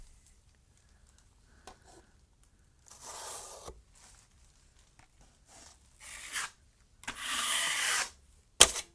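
A putty knife scrapes the edges off wet wall compound on a wall, producing short rasping bursts that grow longer and louder toward the end, separated by quiet gaps.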